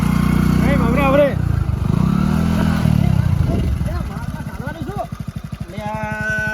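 A motorcycle engine runs with a steady low, throbbing drone, its pitch rising and falling as it is revved during a comic scene of learning to ride a bike, with people talking loudly over it throughout.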